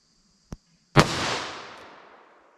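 A single .38 Special shot of cheap Magtech JHP fired from a 3-inch revolver barrel, a sharp close crack with a long rolling echo that fades over about a second and a half, following a faint short click.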